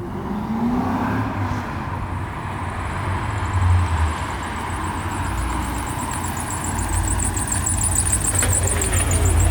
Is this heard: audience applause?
no